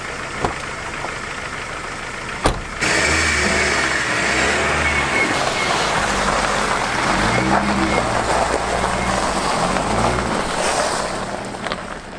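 An old, rattly 200,000-plus-mile Ford car drives up and down a private lane, its engine settling into a rough, pulsing low throb after a sharp knock near the start, with faint voices in the background.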